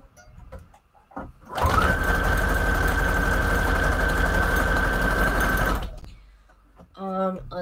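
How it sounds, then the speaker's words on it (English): A sewing machine runs steadily for about four seconds, stitching a zigzag pattern across scrap paper, loud and close, then stops, with speech before and after. "let's sew here. I need a zigzag stitch."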